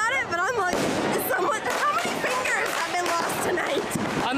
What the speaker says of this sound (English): Never been this close to fireworks exploding.